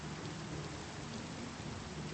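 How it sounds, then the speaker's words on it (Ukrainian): Steady rain with a low thunder rumble fills a Minecraft thunderstorm, a dense, even hiss of falling drops with no voices over it. "Ого, ви це чули? Це була е, блискавка."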